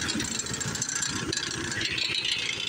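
Kartko Power Ride 675 go-kart engine running close by, a steady rattling mid-pitched putter with a continuous rhythmic chug and no talking over it.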